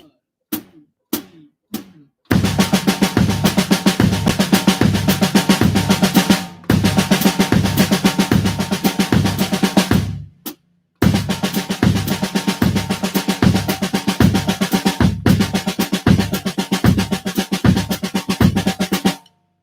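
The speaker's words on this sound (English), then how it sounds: "if I loop Paradiddles and I replace the first note with a kick drum, it sounds like this" Looped drum paradiddles with a kick drum on the first note of each group, played as a steady rapid pattern of hits, loud and alone, after a few sparse opening strikes and with short breaks.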